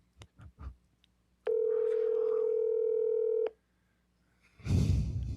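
A phone call being placed: a few quick dialing tones, then a steady two-second tone, then silence and a burst of noisy rustle at the end, with no one speaking over it.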